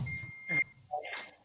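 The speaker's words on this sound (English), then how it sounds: "Hold on, I'm sorry, that's my phone." Mobile phone alert beeping softly at close range: a steady high tone, then a short second chirp, with quiet background sound around it.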